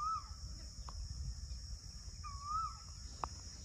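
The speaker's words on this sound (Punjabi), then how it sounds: "ਕੋਇਲ ਕਿਆ ਵਧੀਆ ਬੋਲਦੀ ਹੈ" Asian koel calling outdoors in rural Punjab, two rising whistled calls spaced a couple of seconds apart, clear but moderately distant over a low rumble of background noise.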